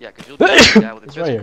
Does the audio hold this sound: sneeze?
yes